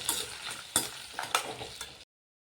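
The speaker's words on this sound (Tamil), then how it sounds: "இந்த புளி போடுறோம் பாருங்கள்." Tamarind tossed into tomatoes frying in a pan for tomato chutney: a few soft scraping stirs and light sizzling bursts at close range, ending abruptly after about two seconds, with no voices.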